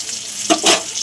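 Panch phoron spices hitting hot oil in a pan where paneer is frying, with a soft sizzle and two quick bright bursts of crackling up close over about a second.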